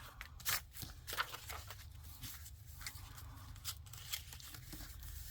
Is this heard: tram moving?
no